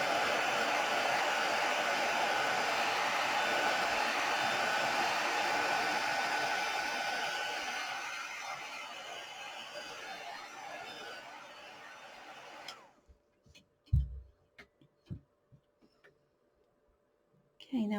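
A hair dryer drying a watercolour painting of an orchid, a steady loud airy blast that fades out after about twelve seconds, followed by a few quiet clicks and knocks.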